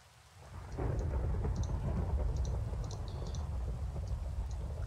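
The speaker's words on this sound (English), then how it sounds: "That thunder is shaking my skull with my headset." Thunder in the Minecraft video game swells into a deep, heavy rumble, mixed with steady rainfall that lasts throughout, loud and close, with faint clicks scattered on top.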